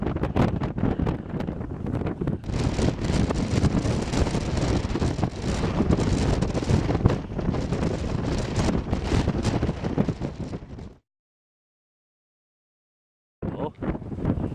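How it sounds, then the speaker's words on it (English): Strong wind on an exposed hilltop buffets the microphone with a loud, continuous roar that surges and gusts. It cuts out briefly near the end, then returns, and no voices are heard. "This wind is horrendous."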